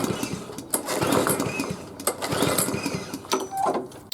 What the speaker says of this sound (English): so let's try to start the mower